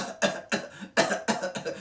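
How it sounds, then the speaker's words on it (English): A man coughs in several sharp, raspy bursts, about five in quick succession, loud and close. "He's coughing now"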